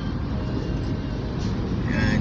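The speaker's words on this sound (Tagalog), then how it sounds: "And banayad lang ang traffic dito." Steady street traffic in Bonifacio Global City, a continuous low rumble of passing cars close by, with faint talk underneath.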